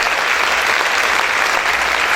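A congregation at an evangelical worship service claps hard, a thick, unbroken wash of applause that holds steady at full volume.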